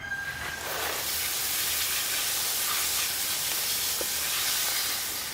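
A continuous, close hissing spray of water runs steadily throughout, broad and even, with no talking, washing muck from the roots of a Scots pine bonsai.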